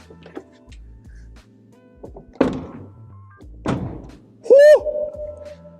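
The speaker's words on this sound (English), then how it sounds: "There's a noticeable thump to it immediately. When I closed the door, it was just very satisfying." A few solid Tesla Model 3 car door thunks land one after another, deep and close, followed by a short high squeak and some faint rustling.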